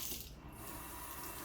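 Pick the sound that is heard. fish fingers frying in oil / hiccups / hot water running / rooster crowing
hot water running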